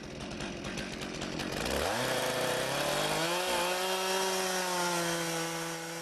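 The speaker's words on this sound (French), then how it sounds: "il fait parler la lame de sa tronçonneuse" A chainsaw roars steadily, its pitch dropping as the blade bites into a raw block of wood while carving, then holding a loaded, buzzing drone close by.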